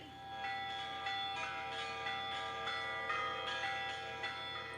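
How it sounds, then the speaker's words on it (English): Church bells ringing repeatedly at the Nativity Church in Bethlehem on Orthodox Easter, in a steady, overlapping pattern, distant and resonant, with a faint background hum. "The bells were ringing this morning at the Nativity Church in Bethlehem"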